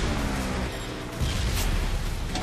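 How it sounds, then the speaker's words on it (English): A rapid string of explosions in the motorbike video game Trials Fusion: dense, overlapping booms and crackling blasts at moderate volume, with one heavier burst midway. "Holy cow, that's a lot of explosions."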